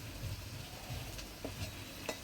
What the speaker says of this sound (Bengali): গুলা লাল করে ভেজে নিলাম